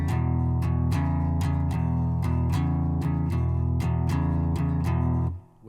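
Guitar strummed open without palm muting in a beginner blues rhythm, a steady pattern of ringing strums about every third of a second, loud and sustained, stopping abruptly near the end.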